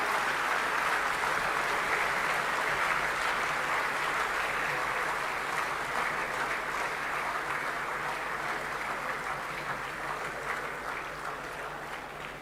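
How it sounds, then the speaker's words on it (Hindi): Sustained applause from an audience greets the Prime Minister at an inauguration ceremony for an international exhibition and convention centre, a dense, even roar of clapping that holds steady for about twelve seconds before easing slightly. "जोरदार तालियों से स्वागत करें माननीय प्रधानमंत्री जी का।"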